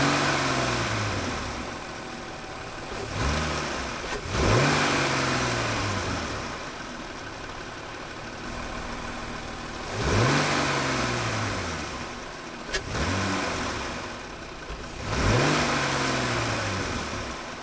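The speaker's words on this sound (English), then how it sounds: "I'll start it up and do a couple revs with the old filter" A car engine with an old, worn air filter fitted, revved up from idle four times in spaced bursts, each rising then falling back to a steady idle, close and alone.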